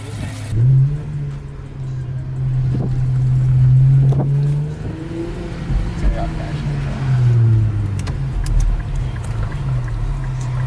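An Infiniti Q50 engine with K&N intakes hums and rises and falls steadily while driving, with a faint airy turbo whoosh over the low rumble and people talking over it.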